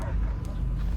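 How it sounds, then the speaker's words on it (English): Dogs bark and yip in the Guardians of the Galaxy video game, a short burst of canine sounds over a dense, rumbling low game soundtrack. "I hear only barking."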